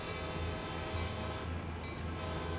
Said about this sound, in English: Here comes our crossing. Pop our head out for this one. I just enjoy hearing the horn.